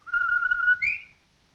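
A single whistle from the 1946 film The Strange Love of Martha Ivers: a steady held tone that slides up into a short higher note at the end, heard alone with no talking.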